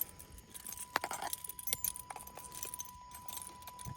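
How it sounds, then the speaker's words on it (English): A tangled bunch of keys jangles and clinks in a series of brief metallic rattles near a car whose new 225 amp alternator was just installed. The jingles come in irregular bursts against a faint steady hum. "The keys all tangled up"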